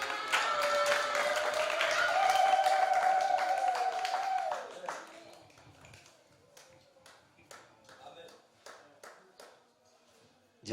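Applause during a joint church service, scattered hand claps that rise under a sustained musical tone and then thin to sparse, separate claps near the end, fairly faint.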